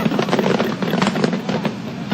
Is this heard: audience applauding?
no